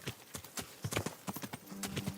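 Horse hooves clip-clop at a walk in the video game Kingdom Come: Deliverance, a close, uneven run of thuds, with a short tonal sound near the end.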